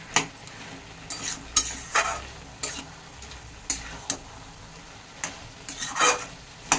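A spoon stirs fried Aar fish head pieces into a pot of gourd ghonto, giving a series of short scraping, clattering strokes over a soft background sizzle, close and fairly quiet, with no talking.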